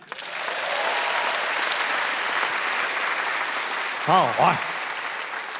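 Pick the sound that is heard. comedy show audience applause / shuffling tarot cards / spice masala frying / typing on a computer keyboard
comedy show audience applause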